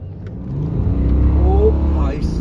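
A BMW 5 Series revs and pulls away hard from a standstill, its engine note climbing steadily and loud up close over about two seconds, with voices talking over it.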